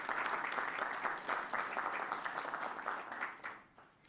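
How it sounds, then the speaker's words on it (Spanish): Audience applause at a public meeting in Spanish, steady dense clapping from a crowd at moderate distance, fading out over the last half second. "para quien pido un aplauso"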